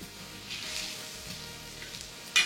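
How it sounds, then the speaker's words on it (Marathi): Onions with whole spices such as cinnamon and bay leaf sautéing in a pan for soya masala, a soft, steady sizzle close by, ending with a brief clink. "तर हे कांद्याबरोबर छान परतून घेतोय आपण"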